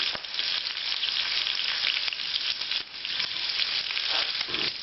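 Beef browning on the first side in a hot pan over medium-high heat, a loud, dense, continuous sizzle and crackle, close and steady without pause.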